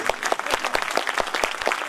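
Sustained audience applause at a school annual function, steady dense clapping from a hall crowd with no talk over it.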